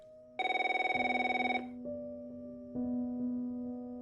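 A telephone rings with a bright electronic trill in one sustained burst, then a lower steady tone lingers, close and fairly loud.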